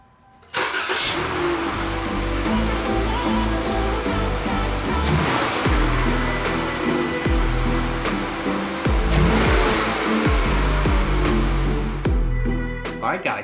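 A Pentastar V6 car engine, just after a lower intake manifold repair, cranks and catches, then runs steadily at idle with a few rising revs, loud and close throughout.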